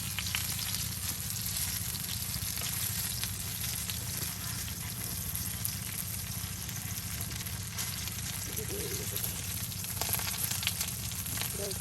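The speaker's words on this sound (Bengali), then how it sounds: "প্রত্যেকটা বেগুন ধরে ধরে কিন্তু একদম তেলে ডুবিয়ে ডুবিয়ে কিন্তু এই দেখুন ভেজে নিচ্ছে।" Eggplant slices for beguni deep-fry in oil, a dense continuous sizzle and bubbling that stays steady and close throughout, with occasional small spatters and no talking.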